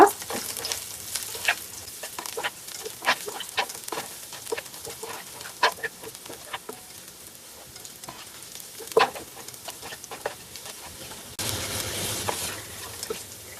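Garlic sautés in a pan for cheera thoran, giving a soft, continuous sizzle broken by repeated scraping and clinking as a spoon stirs it, close and fairly quiet, with no talking.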